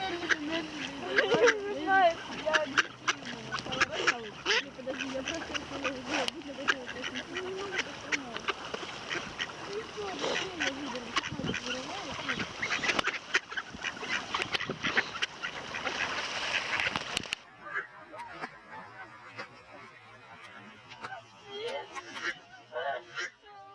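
Mallard ducks being fed bread quack in scattered bursts at close range, with splashing and bustle, while a voice talks over much of it before a quieter stretch at the end.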